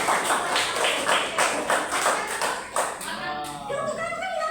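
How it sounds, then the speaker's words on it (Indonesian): A classroom of students claps in a few rhythmic bursts for about three seconds, then a voice starts speaking as the clapping fades. "Tepuk tangan kalau bisa."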